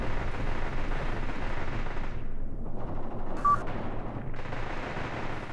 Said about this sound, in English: There goes the assault gun, firing another shot